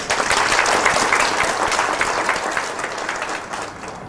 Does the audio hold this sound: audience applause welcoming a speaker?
yes